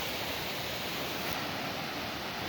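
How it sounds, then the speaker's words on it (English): Baby Bear Falls, a waterfall on a hiking trail in the Arkansas Ozarks, heard close up as a dense, steady roaring rush of falling water with no pauses. "Final waterfall of this hike today, Baby Bear Falls."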